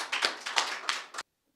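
A small audience at a Hindi poetry recital claps in a short, uneven burst of a few loud claps before cutting off abruptly into silence.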